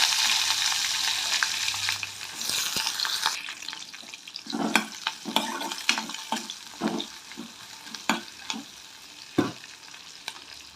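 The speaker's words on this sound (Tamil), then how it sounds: "இப்போ கட் பண்ணி வச்சுருக்க வெங்காயம் காம மிளகா ரெண்டும் சேர்த்துக்கிறோம்" Onions and green chillies frying in oil with cumin for a Tamil snake gourd kootu, a loud hissing sizzle at first, then repeated spoon scrapes and stirring knocks in the pan, close by and with no voices.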